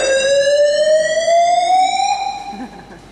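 A fire and safety alarm test in a theatre hall, a loud steady electronic tone that rises slowly in pitch over a few seconds and then fades out.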